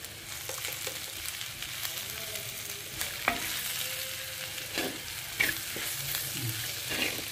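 Curry of seema chintakaya (cluster beans) frying in a little oil over a low flame with turmeric and salt, a steady soft sizzle broken by occasional scrapes and clinks of stirring, close and fairly quiet.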